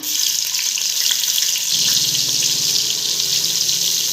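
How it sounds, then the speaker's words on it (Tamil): Two large thinly sliced onions hit hot oil for chicken biryani and sizzle steadily up close, a dense even frying hiss that grows slightly fuller partway through. "நான் ரெண்டு பெரிய வெங்காயம் நீல வாக்கில் கட் பண்ணி வச்சுருக்கேன் அதை போட்டுக்கலாம்"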